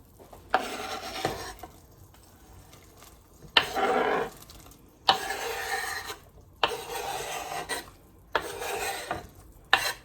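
Borscht ingredients tipped into a pot and stirred, heard as several separate bursts of scraping and clattering from a spoon against the pot, each lasting a second or two, with quiet pauses between them.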